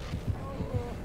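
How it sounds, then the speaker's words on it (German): Heartbeat effect from the Dead by Daylight video game: soft, low, dull thumps pulse in a steady rhythm beneath a faint background hum. "jetzt wird der Herzschlag leiser"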